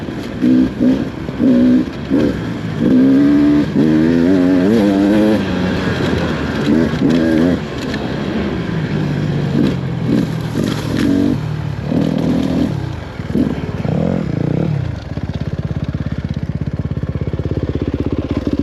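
A loud trail-riding motorbike engine revs and roars close by, rising and falling in pitch through repeated throttle bursts for the full stretch without a break.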